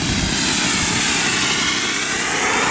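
A Hangar 9 Oscar ARF model airplane, stripped down, fibreglassed and spray-painted, flies overhead at an air show with a loud, close, continuous engine drone that sustains without a break.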